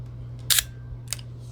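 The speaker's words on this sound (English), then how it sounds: "Film advance, smooth shutter." Advance lever and soft shutter release of a 35mm film rangefinder with a 45mm f/1.8 lens, a Konica Auto S2: a ratcheting wind burst followed a half-second later by a brief, quiet click, close and isolated over faint hum.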